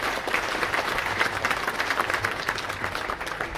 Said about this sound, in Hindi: जोरदार तालियां मिलनी चाहिए